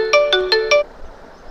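A ringtone plays on a Redmi Note 8 phone: four bright, evenly spaced electronic tones in quick succession, loud and close, followed by quiet.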